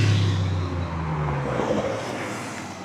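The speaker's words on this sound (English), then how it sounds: "you can actually hear all the Porsches coming really," Porsche sports cars, including a loud 996 cabriolet, arrive at a cars and coffee meet in a leafy spot, their engines droning steadily at moderate distance with a low rumble that eases slightly partway through.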